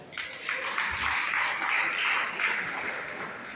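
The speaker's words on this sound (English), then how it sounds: "Can you please clap for him?" An audience claps continuously at a leadership talk for student association members, a steady wash of many hands of even loudness throughout, with no voices over it.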